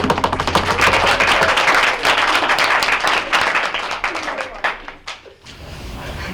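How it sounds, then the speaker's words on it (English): An audience at a college Jeopardy finals applauds the finalists with a loud burst of dense clapping that thins and dies away over the last seconds, leaving a low murmur. "Can we give them one more big round of applause for making it?"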